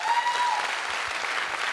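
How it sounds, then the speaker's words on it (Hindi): Loud audience applause from a seated crowd at a wellness company gathering in Jaipur, dense steady clapping continuing throughout, with a faint tone at the start. "मैं चाहूंगा एक बार जोरदार तालियां आप सभी के लिए"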